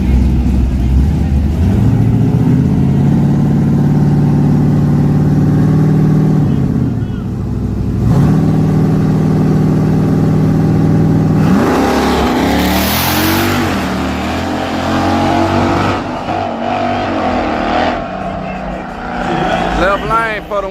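A loud small-tire drag racing car, a Firebird, drones and revs steadily, its engine rising in pitch partway through, with someone talking over the roar.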